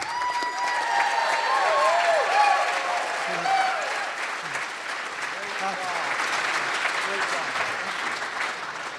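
Guests at a Boston winter ball sponsor dinner applaud in a sustained, loud round of clapping from a large room, with some cheering and a voice talking over it.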